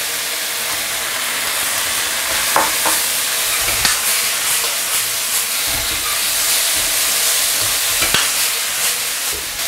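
Shredded pork and sweet pepper strips stir-fry in a hot wok, giving a steady loud sizzle and hiss with scattered clanks and scrapes of a utensil against the metal.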